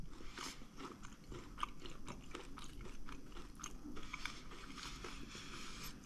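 Close crunchy biting and chewing of coconut Christmas cookies, steady crisp crackles throughout at low volume with no talking.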